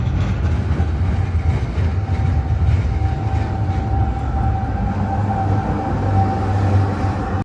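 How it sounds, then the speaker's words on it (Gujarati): A number 7 city tram pulls in with a steady, fairly close rumble of wheels on rails and a thin, sustained metallic whine running over it, with no voices. "7 નંબરની ટ્રામ આવી."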